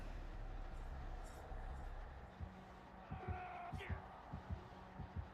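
Killer's heartbeat from the horror game Dead by Daylight, a steady run of low, deep thumps that begins about halfway through and keeps an even pulse over a humming game background.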